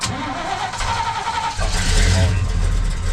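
An old square body truck's engine catches and settles into a loud, rough idle with a deep rumble. People talk over the motor as it runs.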